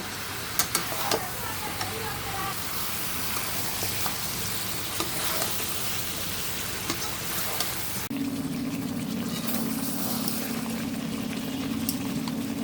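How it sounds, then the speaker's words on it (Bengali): Duck meat curry sautéing and sizzling in a pan, a steady soft frying hiss with occasional stirring scrapes, fairly quiet throughout, with a low hum joining partway through. "আমি আরও কিছুক্ষণ এটাকে কষায় নেব"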